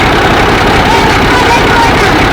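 A repaired tractor engine runs steadily after workshop repairs, a continuous loud low rumble with a busy mechanical clatter throughout, with talk over it.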